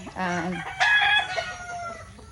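A fighting rooster kept for cockfighting crows once in a garden, a loud, close call with a rising, drawn-out tail, followed by fainter background noise.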